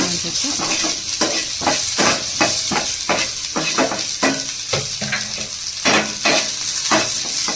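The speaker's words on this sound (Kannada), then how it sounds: "ಇದು ಸ್ವಲ್ಪ ಚೆನ್ನಾಗಿ ಫ್ರೈ ಆಗಬೇಕು ಇದಾದ ನಂತರ ಕರಿಬೇವು ಈರುಳ್ಳಿ ಮತ್ತು ಮೆಣಸಿನಕಾಯಿನ ಸೇರಿಸ್ಕೊಂತ ಇದ್ದೀನಿ" Curry leaves, onion and chillies frying in a hot pan for barley bisi bele bath, a steady close sizzle with repeated stirring scrapes throughout.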